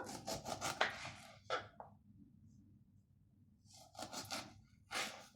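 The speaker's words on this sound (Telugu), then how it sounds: "నిలువ కట్ చేసుకొని ఇవి మరి ముక్కల్ని చిన్న చిన్న కట్ చేద్దాం" Knife strokes cut lemons into small pieces for pickle, producing short scraping chops in quick clusters near the start and end, separated by a quiet pause; fairly soft and close.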